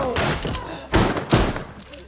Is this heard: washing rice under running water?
no